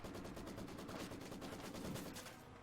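Sustained machine gun fire from a Company of Heroes 2 battle, a dense rapid rattle of bursts running continuously and loudly, easing slightly at the very end.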